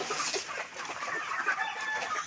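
Broiler chickens in a farm shed, recovering from a mild respiratory illness, cluck and chirp in a dense, continuous flock chorus close by, with no talking.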